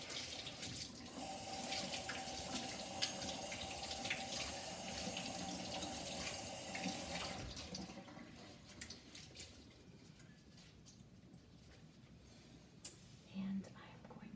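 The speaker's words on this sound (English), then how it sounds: "Let me give it a rinse." Tap water runs over dyed fabric being rinsed in a sink, a steady hiss that stops partway, leaving quieter handling sounds and faint whispering.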